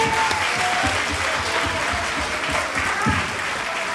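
Sustained, thick applause from a school Christmas show audience, many hands clapping at once in a steady loud roar with no break and no voices on top.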